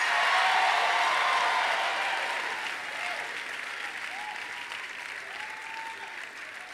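Congregation applause at a church worship service, dense and steady clapping that starts loud and slowly fades, with faint voices and shouts rising over it.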